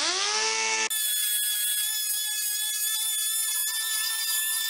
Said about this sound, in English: I'm just gonna light sand this